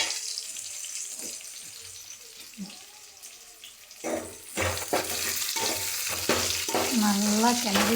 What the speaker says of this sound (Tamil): நல்லா கிளறி விடுறாங்க.